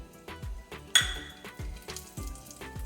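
Whole spices such as cloves and black pepper drop into hot oil for a meat and potato curry, giving a faint sizzle under a series of rhythmic low thumps and one sharp metallic clink.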